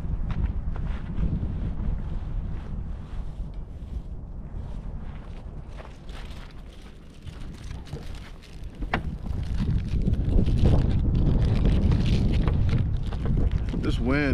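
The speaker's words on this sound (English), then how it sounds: "if the wind wasn't here, I don't mind the cold at all. Just the freaking wind" Strong cold wind blowing outdoors, buffeting the microphone in a loud continuous roar that gusts and swells, with a voice briefly heard under it.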